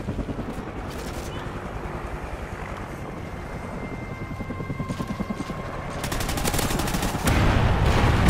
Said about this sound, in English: Friendly Hind incoming.